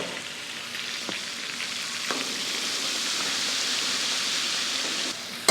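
Pakoras deep frying in hot oil, a steady dense sizzle and crackle with a few faint clicks, close and continuous without talk.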